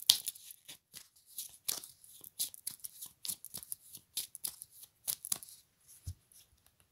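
Tarot cards shuffled by hand in a quiet room: a run of quick, crisp riffling and slapping bursts in an irregular rhythm, close and fairly soft, with no talking.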